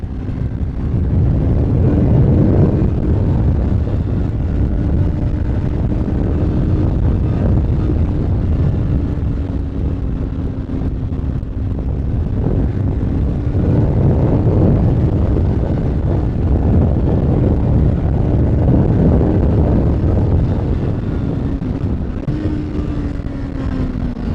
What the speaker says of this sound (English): Bike just begs to be revved.